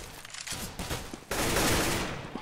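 Rapid gunfire in Counter-Strike on the de_inferno map, a quick series of sharp shots followed by a louder, denser burst of fire, close and intense with no talking.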